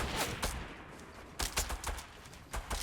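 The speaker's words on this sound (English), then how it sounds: "This guy's gonna take a snipe at me, or a few shots at me." Gunfire aimed at the player in the Fortnite battle royale game: several sharp bursts of shots in quick clusters, fairly close and loud, with no talking.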